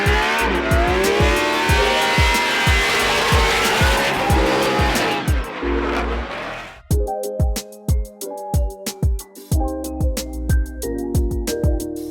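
A naturally aspirated car engine revs hard in repeated sharp bursts with tire squeal and skidding, loud and close, then cuts to short, punchy throttle blips with pauses between them.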